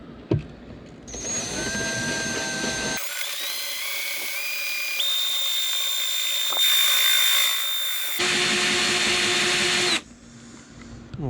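Power drill boring a 5/8 inch hole through boat fiberglass to mount a Garmin EchoMap transducer: a steady high whine that rises in pitch in stages, with short pauses between bursts of drilling, loud and close, no talk.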